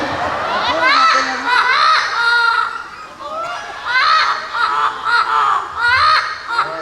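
Mimicking birds perform at a bird show at Cebu Safari, giving loud, close, crow-like squawks and caws in rapid bursts that repeat over several seconds, with crowd noise behind them.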